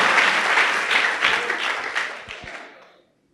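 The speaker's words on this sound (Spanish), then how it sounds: "Dale duro esas palmas" A church congregation clapping hands in a loud, dense burst of applause that gradually thins and fades out over a few seconds, with scattered final claps at the end.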